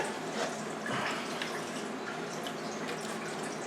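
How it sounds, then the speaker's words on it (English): Antifreeze draining from a 2007 Saturn Vue 3.5L into a drain pan: a steady, faint trickling and splashing of liquid, continuous and close, with no talking. "I didn't get too much antifreeze on the floor. It's still draining, but I got most of it in the pan."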